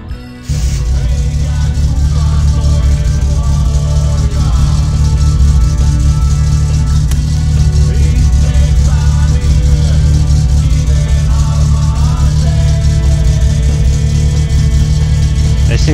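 In the game My Summer Car, a car engine idles with a slight idle surge, giving a loud, close, continuous low rumble with a faint rattle that holds steady from just after the start to the end.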